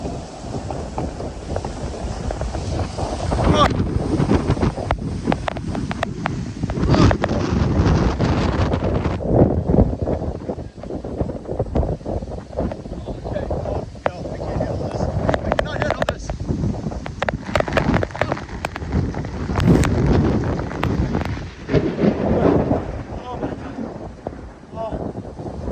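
Strong wind roars during a windstorm chased by a storm chaser, buffeting the microphone in loud, gusting bursts with rumbling low rushes and sharp crackles that rise and fall over about half a minute.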